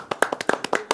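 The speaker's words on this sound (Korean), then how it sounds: "이렇게 뒤에 와야지 박수를 받아요" A studio audience claps for a guest arriving late to a talk show panel, a brief burst of quick, close hand claps lasting about a second.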